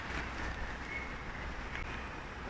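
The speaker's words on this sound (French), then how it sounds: "il y a du vent, mais il y a vraiment du vent" Strong wind gusts across a golf course at Biscarrosse, a steady, loud rushing roar buffeting the microphone with no pauses.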